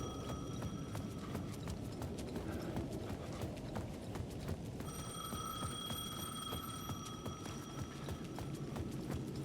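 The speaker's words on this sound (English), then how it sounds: "The payphone was ringing again." Payphone ringing in the video game Alan Wake 2, a steady electronic ring with sustained tones in the second half, heard over a dense bed of rhythmic clopping footfalls and ambient game noise.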